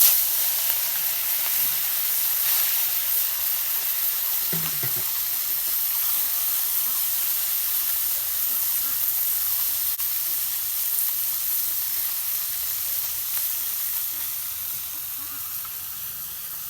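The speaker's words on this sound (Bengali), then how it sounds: "সর্ষের তেল মেলা গরম হয়ে গেছে, এখন আমি মাছ দিয়ে দিব।" Small puti fish frying in hot mustard oil make a continuous close hiss and sizzle, with a short clink or splash early on, then an even crackling bed to the end.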